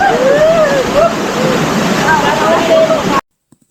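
Rushing water at Dingalan waterfall in Aurora, a steady broadband roar that holds loud and close for about three seconds, with a voice talking over it, then cuts to near silence.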